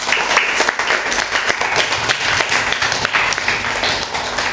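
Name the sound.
classroom applause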